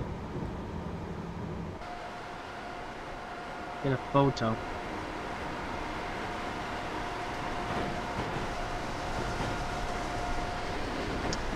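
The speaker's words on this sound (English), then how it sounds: "The American Freedom Train is coming up." American Freedom Train passing in the video game Train Simulator 2017, a steady rumbling roll with a sustained tonal whine running underneath, while a person talks briefly over it.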